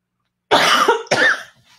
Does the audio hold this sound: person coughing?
yes